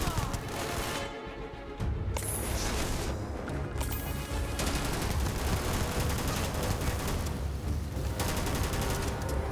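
Rapid bursts of gunfire from the Starfield video game, several volleys and single shots in quick succession, loud and close, with brief gaps between bursts.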